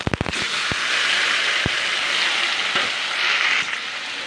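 Marinated chicken pieces hit hot oil with browned onion and garlic, a burst of sharp crackles and pops at the start settling into a loud, steady sizzle with occasional spits, close and without voices.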